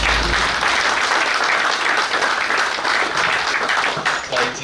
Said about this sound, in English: May we give our esteemed special guest of honor another round of applause.